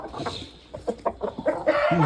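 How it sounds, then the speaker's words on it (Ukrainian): Young Jersey Giant roosters cluck and murmur close by in a winter farmyard, a flurry of short, uneven calls rising into a louder, stronger cluck at the end. "От такі, от такі півники наші молодші групи"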